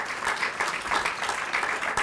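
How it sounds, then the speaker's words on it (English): A crowd at a groundbreaking ceremony for the McElwain School Apartments claps, a brief, fairly loud burst of steady applause with no speech. "another round of applause for him."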